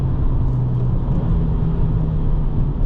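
A 2025 Subaru WRX tS driving on a track, its engine and road noise forming a steady, loud, close drone with a low tonal hum throughout and no talking.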